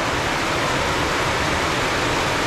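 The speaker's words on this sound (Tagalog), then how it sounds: "dagdagan pa natin ng konting tubig" Water pours into a cooking pot for a Filipino boiled pork and banana soup, making a steady, close, hissing splash that runs without a break and with no talking.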